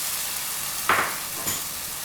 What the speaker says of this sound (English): add in the cooked Thor Dal, mix it well